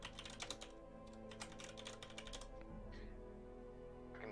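Fast, furious typing on a computer keyboard during an online tabletop roleplaying session, a rapid burst of clicky keystrokes that stops partway, then a quiet room hum.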